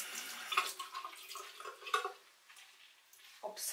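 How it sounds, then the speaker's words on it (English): Faint wet dabbing and swishing of water on skin while mascara is wiped off, with soft squelches and small drips close by, uneven and quiet, and one louder splash near the end. "let me get a bit more water on there"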